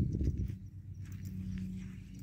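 Hooves of a young bay roan horse, about 1.50 m tall, thud softly on the ground in an uneven clip-clop, with a low rumble of background noise.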